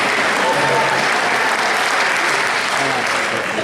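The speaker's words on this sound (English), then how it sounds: "I think that's a round of applause for the black bear" A theater audience at a comedy show claps loudly and steadily, a thick continuous wash of applause close by that barely fades across the whole stretch, with no voices rising above it.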